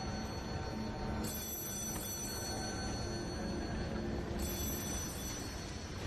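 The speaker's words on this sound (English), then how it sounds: "Pick up the phone!" A telephone rings faintly through steady background noise, with two separate ring bursts a few seconds apart.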